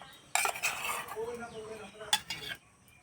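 A spoon stirs and clinks against a bowl of cornflour batter mixed with white oil, with quick scraping strokes and a couple of louder metallic taps, close and fairly quiet.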